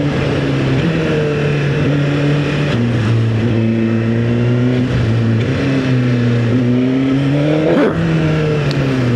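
A motorcycle engine on the streets of Paris near the Eiffel Tower, revving repeatedly in short rising bursts between gear changes, loud and close with traffic noise around.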